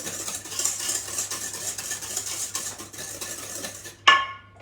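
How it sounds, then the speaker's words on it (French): Cake batter for a spiced apple moelleux being stirred in a bowl with a spoon-shaped spatula, a steady close scraping and swishing that runs throughout, then a brighter clatter against the bowl near the end. "on mélange à nouveau"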